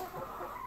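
Chickens in a warmed coop during a Texas winter storm in February 2021, a short burst of low murmuring clucks close by, steady and fairly soft.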